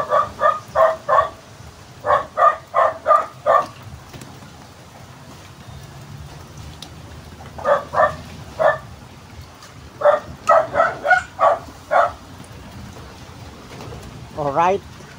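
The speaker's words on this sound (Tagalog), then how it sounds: "uulahin ko muna yung aking alagang aso." A pet dog barks outdoors during overnight rain, in repeated bursts of three to five sharp barks separated by pauses, over a soft steady rain hiss.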